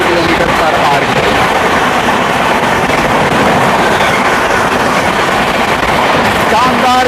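Sampoorna Kranti Express train running fast at around 120 km/h and accelerating, a loud, steady roar of wheels and rushing air with rhythmic rail clatter and a brief horn-like tone near the end, with some talk underneath.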